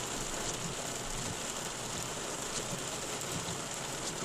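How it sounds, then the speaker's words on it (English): Steady rain falls on the windshield of an eGolf car, a continuous close hiss of drops and patter with no voices. "depending on the amount of rain that is falling"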